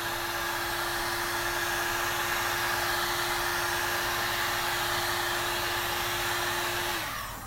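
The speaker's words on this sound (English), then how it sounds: "All you need to do is get yourself a heat gun." A heat gun blows with a loud, continuous whoosh and a steady motor whine while warming matte Rhino heli tape, then cuts off and spins down at the very end.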